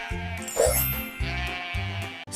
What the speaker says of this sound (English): Can you guess this animal? It says ba-ba.